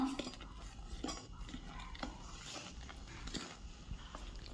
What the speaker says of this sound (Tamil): கொதிக்கிற தண்ணியை அந்த மாவில் ஊற்றி நல்லா கிளறிக்குவோம்